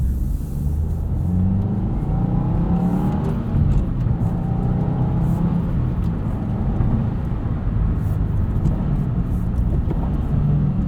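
Engine of a 2022 Subaru WRX with a six-speed manual gearbox, heard from inside the cabin as a steady, loud low rumble that swells under throttle, continuous throughout with no talking.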